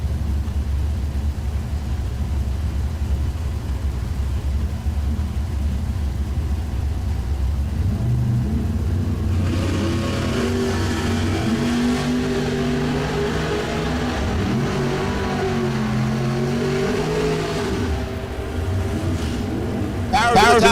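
Bracket drag race with a 1966 Chevrolet Nova against a Beretta: steady engine drone builds into loud, rising revs and overlapping engine notes as the cars launch and pull away, with talk over the top.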